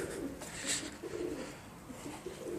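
Soft, repeated pigeon coos in a low murmuring rhythm, close by, with faint background noise and no talking.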